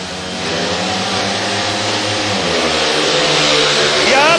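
Speedway motorcycles roaring off the start line in a race, a loud sustained engine howl that builds steadily over a few seconds with no talk.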